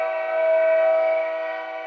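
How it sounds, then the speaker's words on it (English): A long, steady train whistle holds one low, mournful tone for a couple of seconds, swelling slightly in the middle and fading a little toward the end. "Somewhere behind us, a train whistle blew, long and low"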